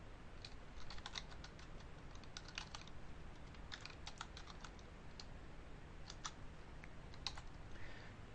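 Computer keyboard keys tapped in quick irregular bursts while entering a username and password, close but faint, with short pauses between clusters and no talk.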